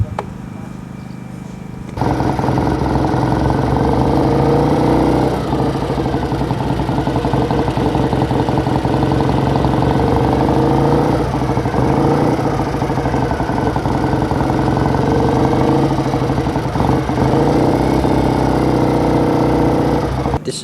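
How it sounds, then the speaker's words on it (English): A 1957 BSA Rocket Gold Star motorcycle, a replica of the 1962 version converted to twin carburetors, idles with a steady, loud, even rumble that starts abruptly after a brief quiet opening and holds throughout. "This is a 1957 BSA Rocket Gold Star replica of a 1962 version."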